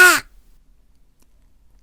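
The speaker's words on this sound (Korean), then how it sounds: "까마귀는 큰 소리로 울면서 땅바닥을 날개로 쳤어요." A crow gives a single loud, harsh caw up close that cuts off abruptly, followed by near silence.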